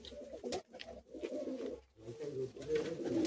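Pigeons at a Bagnan pigeon sale, heard as low, soft, continuous cooing and burbling close by, with a few brief clattering or handling noises mixed in and no talking.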